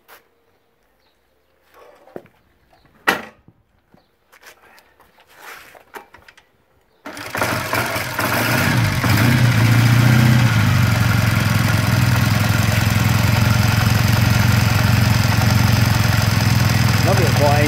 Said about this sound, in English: Lovely a quiet engine, isn't it?